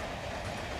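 A train runs steadily along its rails, a continuous close rumble with a faint rhythmic clatter of wheels, heard alone with no talk.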